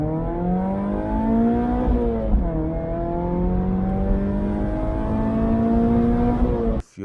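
A 2012 Mazda MX5 engine revs steadily while driving, its tone climbing, dipping briefly near two seconds and rising again, loud and close throughout with no talk, ending in an abrupt cut.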